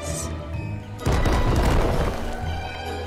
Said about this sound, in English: You just keep blowing everything up.